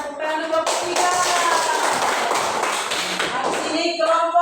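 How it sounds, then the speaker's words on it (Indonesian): A junior high school class in Monterado gives a few seconds of steady applause for group 3 after their presentation, with voices talking over and between the claps. "Oke, tepuk tangan kelompok 3"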